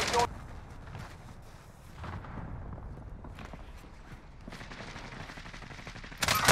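Gunfire in the Call of Duty Warzone game, bursts of rapid automatic shots and loud cracks at the start and end, with sustained firefight noise and voice chatter in between.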